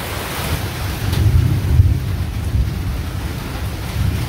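A village thunderstorm with heavy rain and lightning: a constant roar of downpour and gusting wind, with deep rolling thunder swelling and fading several times in the background.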